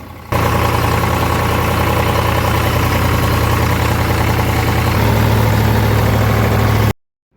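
A farm tractor carrying harvested pigeon peas idles steadily with a loud, deep rumble, its pitch shifting slightly near the end before it cuts off abruptly.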